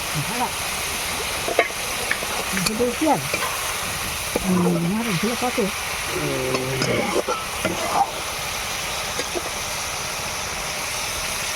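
A small mixed-fish curry (pach mishali macher jhal, with puti fish) boils in a pan, a close, steady bubbling and sizzling that runs throughout while a voice speaks over it in the middle.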